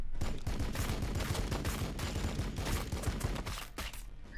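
Dense, continuous gunfire in the Warhammer 40,000: Battlesector game as a squad shoots at Termagants, a steady rattle of many overlapping shots at moderate level.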